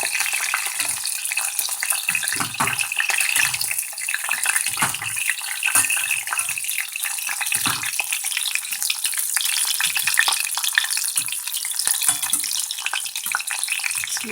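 Slices of fish sizzling in a frying pan, a continuous bright crackle with scattered pops and a brief scrape as the pieces are turned, close and steady with no talking.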